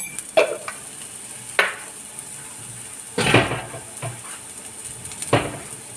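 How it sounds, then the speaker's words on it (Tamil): Yam with coconut and garlic fries on low heat, a soft steady sizzle punctuated by four or five louder stirring scrapes in the pan. "சிம்மில் வச்சு கருகிராமல் வறுத்துக்கிடுவோம்"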